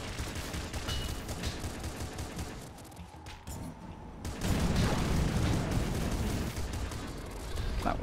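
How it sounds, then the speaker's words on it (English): A weapon in Nuclear Throne Ultra Mod fires fire and electricity together, producing dense, continuous crackling bursts of game gunfire that thin briefly, then return louder and fuller near the end. "That thing fires out fire and electric?"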